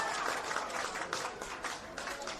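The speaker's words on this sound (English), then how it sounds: "And that prompts a rapturous applause from the Heidelberg faithful." Home crowd applauding at a women's soccer finals match, a faint, uneven ripple of clapping heard from a distance with no talk over it.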